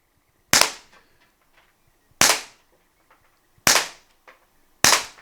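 A Mercury Rise MUB43 pepper ball launcher fires four sharp, loud cracks, each one separated from the next by a second or more of quiet, with faint small clicks between the shots.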